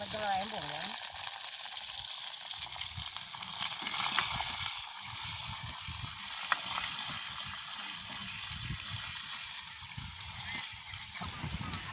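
Onions and green chillies fry vigorously in a pan over an open village fire, a loud, dense, steady sizzle with occasional stirring, while voices talk over it.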